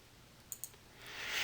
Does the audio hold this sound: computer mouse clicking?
yes